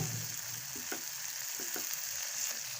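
Noodles frying in a pan with soy sauce give a steady, close hiss of sizzling, broken by a few soft stirring scrapes and taps of a utensil, with no voices.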